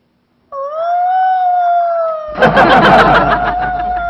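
A puppy howls in one long, sustained wavering note, loud and close. Partway through, a burst of noisy clatter or rustling joins the howl and continues alongside it to the end.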